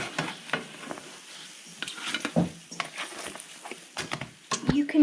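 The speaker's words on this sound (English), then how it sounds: "You can tell that it's good when it still has the sizzle when you put it on the plate." Bannock sizzles in butter in a frying pan at home, a close, crackling fry punctuated by scrapes and clinks of a utensil against the pan, with people talking over it.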